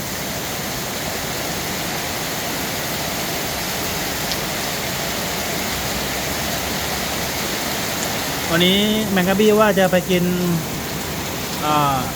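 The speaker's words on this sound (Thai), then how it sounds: "ฝนตกหนักนะครับทุกคน มันตกตั้งแต่เมื่อคืนแล้ว" Heavy rain pours steadily with a dense, hissing roar throughout, in Mueang District, Uttaradit, Thailand, and someone briefly speaks over it near the end.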